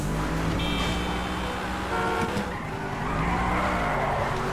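A car drifting in GTA 5 during a police chase, its tires squealing in long wavering tones over engine roar and a sounding horn, loud and continuous with no talk.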